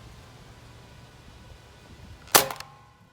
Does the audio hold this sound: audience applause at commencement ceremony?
no